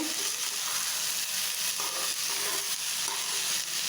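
Okra frying in a pan at home, giving a continuous dense sizzle with faint stirring scrapes, steady and close, no voices.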